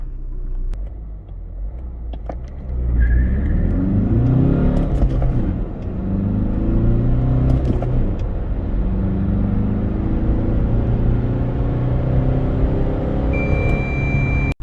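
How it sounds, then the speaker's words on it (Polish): A Fiat Tipo Kombi with the 1.6 MultiJet 130 diesel launches hard toward 100 km/h, the engine rumbling low and revving through several rising gear pulls, loud and close inside the cabin. "Pora więc sprawdzić przyspieszenie do setki."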